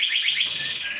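Canaries in an aviary chirp and trill in bright, rapid, high-pitched runs, loud and close, overlapping continuously without a break.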